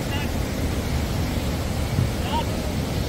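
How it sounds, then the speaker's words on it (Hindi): A waterfall on the Kedarnath trek rushes with a constant, heavy roar of falling water. The sound is loud and broad, with a deep rumble underneath, and a faint voice may come through briefly. "देखना कितना शोर आ रहा झरने का पानी का"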